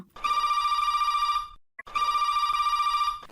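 Telephone ringing for a call-in to an Odia radio phone-in show, two loud electronic rings about a second and a half each, separated by a brief pause, with no voices.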